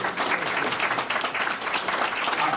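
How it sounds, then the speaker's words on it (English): Steady audience applause at the end of an evening lecture on US-China trade, a dense wash of clapping hands at even volume throughout. "A big round of applause for"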